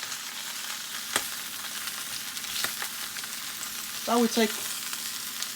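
Onions fry and caramelize in a pan for Moroccan beef tajine, a steady close sizzle that runs throughout. A few stirring knocks sound over it, and a short spoken phrase comes in near the end.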